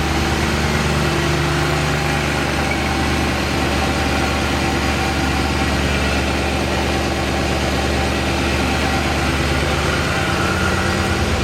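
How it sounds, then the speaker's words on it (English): A 2001 BMW E39 M5 V8 idles steadily after sitting unused for about three months, a deep even rumble through a stock exhaust with a light rhythmic lifter tick riding on top, close and loud throughout. "Yep, there's a little bit of clatter there. A little bit of lifter noise."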